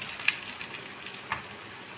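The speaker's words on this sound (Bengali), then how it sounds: "রসুন ফোড়ন দিয়েছি" Garlic sizzles in hot oil for a tempering, a steady bright hiss and crackle with a few louder pops, close and alone.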